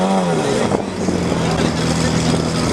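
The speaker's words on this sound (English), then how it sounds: "Yo, you better give us a rev, bro." Supercar engine revving at a car takeover meet, a loud sustained roar with a rising harmonic sweep early on, then steady engine drone with crowd noise around it.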